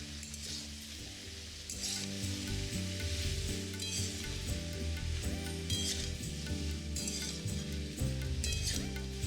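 Pumpkin and carrot pieces frying in a pan for a winter vegetable khichdi, with a steady loud sizzle and occasional clinks and scrapes of a spoon stirring the vegetables.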